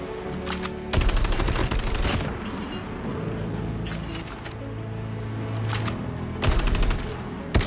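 Shotgun blasts and rapid automatic gunfire crack loudly in a first-person shooter game, in two heavy bursts around quieter shooting and ambient battle noise.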